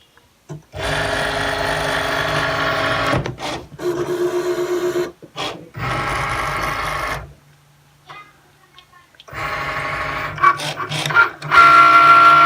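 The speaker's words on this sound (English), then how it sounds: "And then it tells me to push the Cricut button." A Cricut cutting machine runs close by, giving a steady mechanical whir with a pitched motor hum, broken by brief pauses and stops as the carriage moves across the material.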